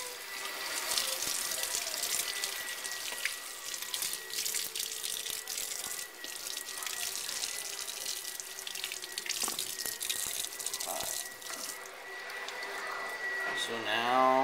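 Tap water runs steadily into a sink while a dyed lacrosse head is rinsed off, a constant close splashing rush with small shifts in flow and a brief squeak near the end.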